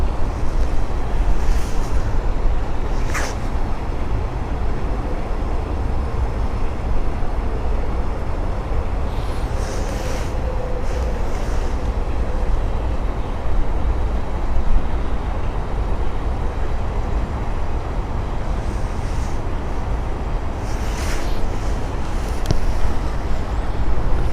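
A Boeing 737 taxiing at Stansted Airport produces a steady, broad jet engine roar heard from a distance, continuous and unbroken for the whole stretch with no talk.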